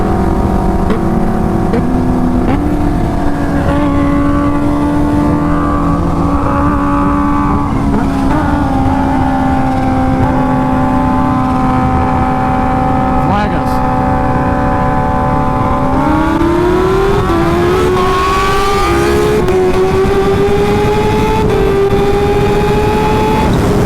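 Supercharged Kawasaki Ninja H2 motorcycles drag racing give a loud, continuous engine roar whose pitch holds, dips and then climbs sharply toward the end.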